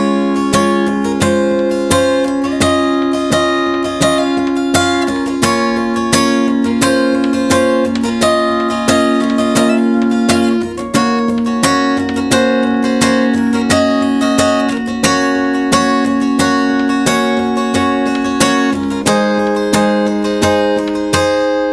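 Acoustic guitar strumming the chord progression of a song, a steady, rhythmic run of ringing chords that changes every few beats. It plays loud and close throughout, with no voices.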